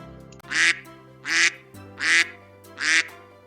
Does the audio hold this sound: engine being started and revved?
no